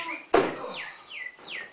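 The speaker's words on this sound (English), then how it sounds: "Just listen to the birds singing." Birdsong outdoors in the open air, a few repeated descending whistled notes coming at a steady pace, moderately loud, with one brief sharp noise breaking in near the start.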